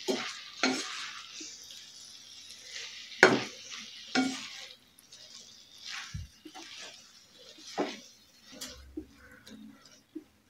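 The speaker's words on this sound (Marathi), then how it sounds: "टोमॅटो घातलं की मेथी घालायची आहे बारीक चिरलेली आणि हलवायचं आहे." Chopped fenugreek leaves and tomato stirred in a frying pan for aloo methi, soft intermittent scraping and light sizzling bursts with quiet gaps between strokes.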